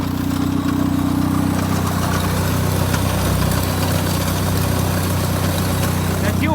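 The engine of a Toyota Wolverine truck idles right after starting, a loud, steady, close-up rumble with constant vibration, and someone talks over it.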